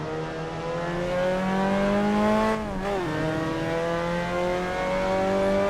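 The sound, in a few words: MX-5 Cup race car engine in video game Assetto Corsa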